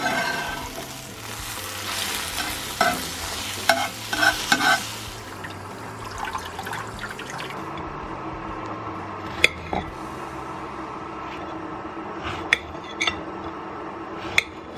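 Torn pieces being stirred into scrambled egg in a frying pan, with soft sizzling, wet scraping strokes and a few sharp clinks of utensil on pan, quieter after the first few seconds.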